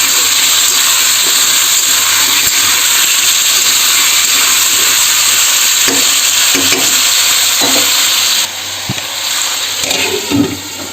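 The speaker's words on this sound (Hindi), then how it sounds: "अब दाल को अच्छा से मिला के ढक दूँगी" Dal with potatoes and onion is stirred in a pan, a loud steady sizzling hiss carrying through with soft scraping touches, then easing slightly toward the end as a few clinks come through.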